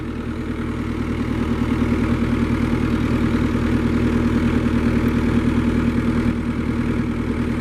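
A forklift engine runs at a steady, loud idle-like drone while lifting a loading ramp out of a trailer, continuous throughout with no talk.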